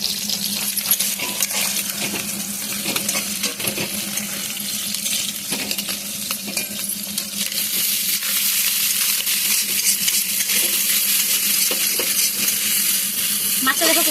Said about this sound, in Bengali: মাছটা একদম ভাজা ভাজা করে নিয়েছি।